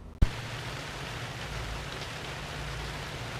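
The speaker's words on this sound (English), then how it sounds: "I was trying to wait for the rain to stop, but it doesn't seem like it's going to let up any." Steady rain falls outdoors as a constant, even wash of noise, preceded by one brief thump at the start, with no voices.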